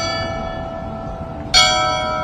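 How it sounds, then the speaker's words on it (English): Church bells ring with a lingering metallic hum, then a fresh, loud strike bursts in past the halfway point and rings on, slowly fading. "More church bells."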